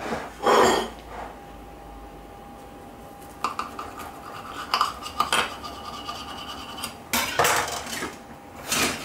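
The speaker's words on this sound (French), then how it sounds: "je vais couper une part pour la dégustation" A slice of potato tortilla is cut and lifted on a plate, giving close scrapes and clinks of cutlery against the plate in several short bursts, alone.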